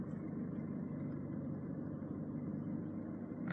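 A car engine idles low and steady while creeping forward through heavy traffic, a continuous near rumble with no talk.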